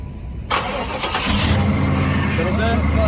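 A Chevrolet Impala SS engine cranks and catches, settling into a loud, steady idle that dominates the rest of the clip, with a voice heard briefly over it.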